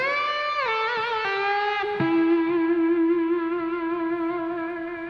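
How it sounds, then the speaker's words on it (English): An electric guitar played through a Strymon Blue Sky reverb pedal glides through a few bending notes, then settles on one long sustained tone in a lush, lingering wash of reverb. "So I'm using the reverb to be a thing that's like not an always on. It's something that's like used to be really extreme, and it's the Strymon Blue Sky"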